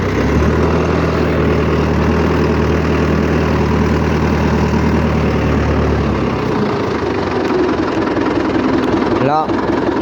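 A farm tractor's engine runs steadily while hoeing a maize field, a loud, continuous mid-to-low drone that drops in pitch as the tractor shifts gear partway through and then keeps going, with someone talking over it.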